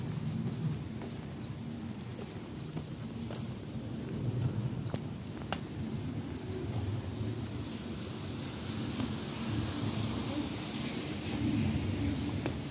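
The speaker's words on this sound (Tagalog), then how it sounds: "Ito na, ano to ng bagyo, no?" Steady rain with low rolling thunder rumbles through a storm, a continuous wash of noise with occasional deeper swells and no voices.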